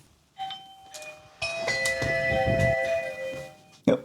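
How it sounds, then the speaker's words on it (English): A front video doorbell is pressed, setting off an indoor electronic chime: a soft tone, then a longer ringing multi-note ding-dong melody that sustains and decays, ending with a sharp click. "now I'm going to press my front doorbell, and let's see if that triggers the video feed"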